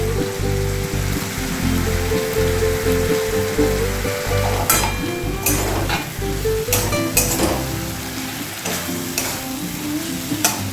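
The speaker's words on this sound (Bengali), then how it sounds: "কষিয়ে নিচ্ছি আলু দিয়ে" Potatoes sauté in hot oil in a pan with ginger, giving a continuous loud sizzle broken by repeated scraping and stirring strokes of a spatula.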